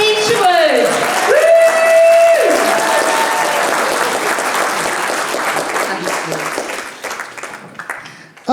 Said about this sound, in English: can we just do a huge round of applause for Kat, Watkins and Kim Isherwood